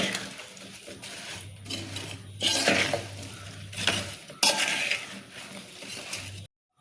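Nutmeg pickle mixture, North Indian style, is stirred in a bowl with a spoon, giving scraping, clinking strokes in uneven bursts over a low steady hum, then stopping abruptly.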